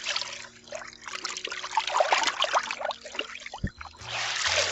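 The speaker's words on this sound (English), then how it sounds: "and then just squeeze the water out." Water trickles and dribbles from a wet bed sheet as it is wrung out by hand, in uneven close splashing bursts with short pauses.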